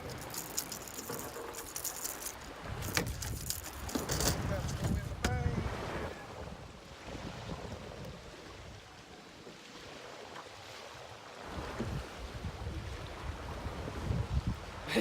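Strong wind sweeps over a lake during fall bass fishing from a boat on Douglas Lake, a loud, continuous low rumble and buffeting across the microphone with rushing water beneath, swelling and easing throughout.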